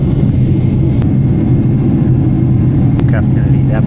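Steady, loud low-frequency roar fills the cabin of an Emirates Boeing 777 in flight, an unbroken engine and airflow drone with faint voices and a few brief clicks over it.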